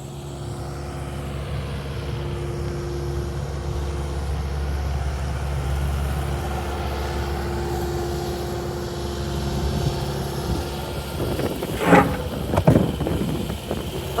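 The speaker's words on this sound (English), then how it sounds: "So now the bulldozer is nice and tight on the edge of that slope, so he's safe. So he should be able to just spin it round now" A bulldozer's diesel engine rumbles steadily while it spins round on a slope beside a French farmhouse boiler room, then a cluster of clattering, crashing debris sounds breaks out near the end as the roof load is dumped.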